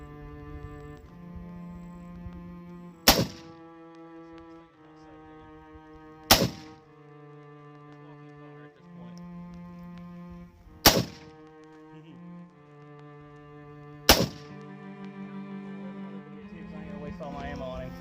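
Four loud, sharp shots from an AR-15 pistol firing 5.56 rounds, spaced a few seconds apart over steady background music.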